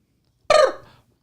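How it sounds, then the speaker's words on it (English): One short, abrupt burp, loud and close, rising suddenly out of silence and trailing off within half a second. "Burp."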